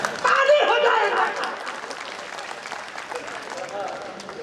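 An audience applauds at a Hindi humorous parody poetry recital, a burst of broadband clapping that swells in the first second and a half, then fades under murmuring crowd chatter and voices.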